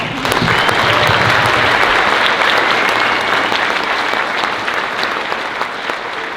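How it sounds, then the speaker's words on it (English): Audience at a middle school band concert breaks into loud, sustained applause, a dense wash of clapping that holds steady throughout and tapers only slightly toward the end, with no talk over it. "Let's give everyone a round of applause."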